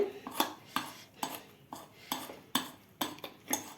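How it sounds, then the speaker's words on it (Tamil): A utensil briskly stirring rice flour into milk in a vessel to break up lumps, a quick regular series of clinking, scraping strokes, close and fairly quiet, with no talk. "கொஞ்சமாக பாலில் கொஞ்சமாக அந்த மாவை போட்டு கலக்கி கட்டி இல்லாமல் பண்ணிக்கிட்டு"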